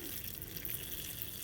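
Water pours steadily from a homemade watering can, a recycled milk bottle with holes in its lid, onto indoor plants, a soft continuous trickle heard close up with no talk.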